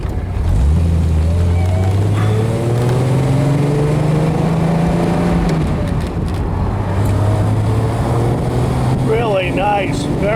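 A 1974 Triumph TR6 drives along with a loud, steady engine drone that rises in pitch through the gears, and a voice talks over it now and then.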